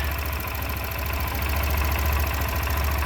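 A 2010 Yamaha YBR 125 Custom motorcycle engine idles close by with a steady, rapid ticking thump and a faint metallic clatter, no voices.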